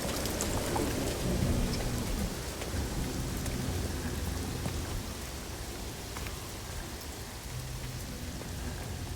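Steady heavy rain hisses throughout a storm in No Man's Sky, with low thunder rumbling underneath, dense and continuous, no voices present.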